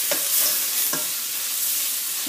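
Charro beans with chorizo frying in a pot, a loud, close hiss of sizzling with a few soft scrapes of stirring, no talk.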